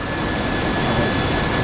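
An AV-8B Harrier jet's engine holds steady at half-power cruise in a combat flight simulator, a broad, even roar with a faint high whine, no voices.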